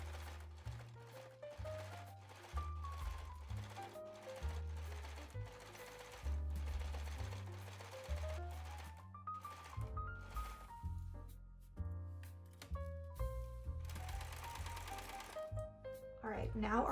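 A sewing machine sews a seam onto elastic for a boat-neck crop top in repeated short bursts of stitching, each starting and stopping, while a person talks steadily over the machine.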